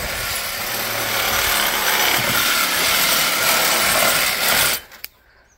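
A saw cuts through the bottom of a log on an older log home, a loud steady rasping whine that runs for several seconds and then stops abruptly, leaving quiet.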